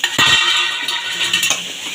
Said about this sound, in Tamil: வெங்காயம் ரோஸ்ட் ஆகிற வரைக்கும் கலரிக்கலாம்.